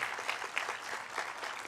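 Applause from the audience at a Linfield School of Nursing hooding and pinning ceremony, a steady, fairly faint patter of many hands clapping without a break.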